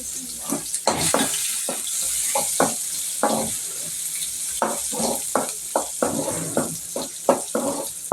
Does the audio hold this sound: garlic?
yes